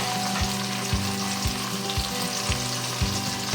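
Meat, well over 1.5 kg, frying in a pan with ginger-garlic paste, a steady loud sizzle broken by rhythmic scraping stirs about every half second, with no talk.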